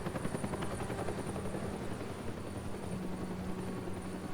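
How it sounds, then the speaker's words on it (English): A helicopter from the Batman: The Telltale Series video game drones steadily with a constant rotor thrum, filling the scene evenly throughout with no talking. "Helicopter."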